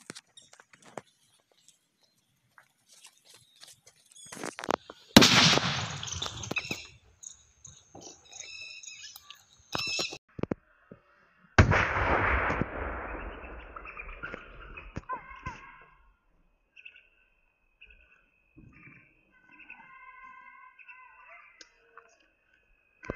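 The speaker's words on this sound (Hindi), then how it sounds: "हमारा जो बॉम्ब था कितनी तेज यहाँ पर धमाका किया है" A Bajrangi firecracker bomb goes off outdoors in two loud, close blasts with debris, followed by crackling, clicking and scattered pops; a few birds chirp in the background.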